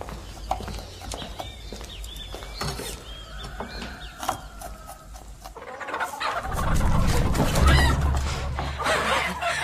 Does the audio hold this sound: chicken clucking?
yes